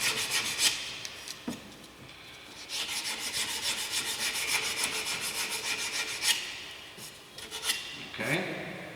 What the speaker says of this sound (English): this part up here, you'll just have to sand by hand like this